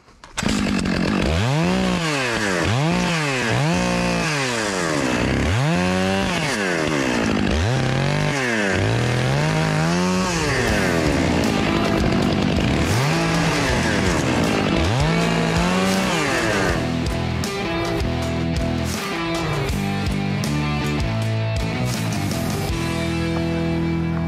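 A chainsaw cuts juniper trees along a fence row, its engine swinging through repeated loud revving cycles close by, then settling into a steadier high drone as the bar bites into the hard wood.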